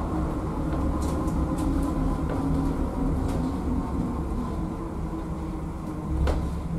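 The Birmingham Airport Air-Rail shuttle train slows to a stop, a steady rumble of the cabin with a few clunks and rattles, heard from inside.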